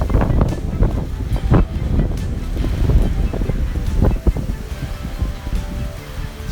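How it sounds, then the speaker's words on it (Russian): Strong hurricane-force wind roars over a rocky coastal building site in Crimea, buffeting loudly and unevenly against the microphone with gusty rumbling and rustling throughout. "Ветер просто страшно воет."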